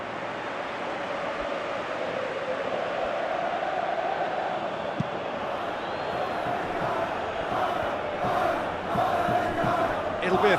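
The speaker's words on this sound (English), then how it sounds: "you can hear how the crowd are reacting to this too" A football stadium crowd roars in response to a near miss, a broad, distant wash of noise that swells louder toward the end, with a faint voice beneath it.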